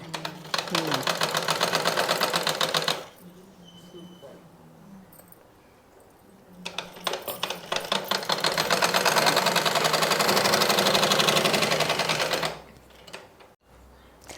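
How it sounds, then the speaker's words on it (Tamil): Sewing machine stitching chudidar pants, a loud close mechanical whirr in two long bursts of rapid needle clatter, separated by a quieter pause in which a voice speaks faintly. "உள்ளாரையும் வெளியிலையும் ஒரே மாதிரி இப்படி விரிச்சு வச்சு தையல் போடணும்"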